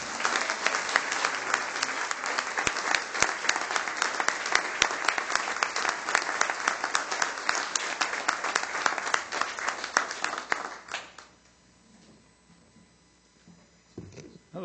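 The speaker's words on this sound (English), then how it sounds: "give her a round of applause." Sustained applause from an audience at a Rock Island city council meeting, steady dense clapping for about ten seconds before it stops, leaving a quiet room with a faint stir near the end.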